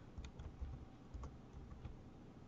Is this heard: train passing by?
no